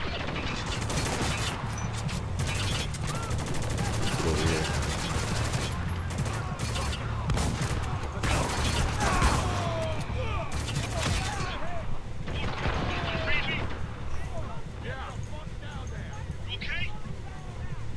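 Enemy gunfire in a video game crackles in scattered bursts and rattling volleys, with mechanical clatter mixed in, while someone talks over much of it.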